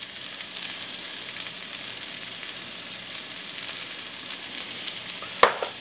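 Chopped garlic sizzles steadily in a pot of vegan white chili, a constant close frying hiss with no talking and one brief sharp clink near the end.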